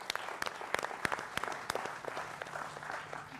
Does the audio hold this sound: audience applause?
yes